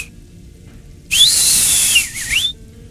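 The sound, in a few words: deliberately bad whistling imitating bad flute playing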